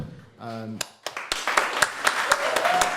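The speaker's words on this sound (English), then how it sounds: "a round of applause to Felipe, to Anat, to Sean, to Aukje" A voice is cut off as scattered hand claps begin, quickly building into steady applause from a poetry reading audience at the Tetley arts centre, loud and close.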